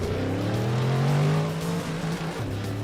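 Race car engine from Gran Turismo 4 played in VR, a McLaren F1 on Grand Valley Speedway, droning steadily with rising and falling revs and a sustained roaring tone throughout, loud and alone without talk.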